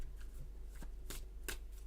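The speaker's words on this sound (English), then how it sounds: "You want me to shuffle now?" Tarot cards are shuffled by hand in a few quick riffling bursts over steady low background hum, close and fairly quiet, with no talking.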